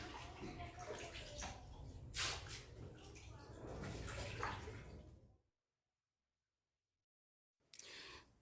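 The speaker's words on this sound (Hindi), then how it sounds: "हम दो पानी में गेहूं धो लेंगे, और एक बार धो चुके हैं, दूसरे पानी में धो रहे हैं" Wheat grains being washed by hand in a second change of water, a steady close splashing and sloshing for about five seconds, then silence before a brief burst of water noise returns at the end.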